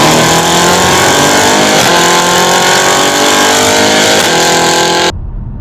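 A BMW M550i's V8 exhaust drones loud and steady from inside the car while driving, its pitch sweeping slowly up through gears with small dips at the shifts, then abruptly cutting off near the end.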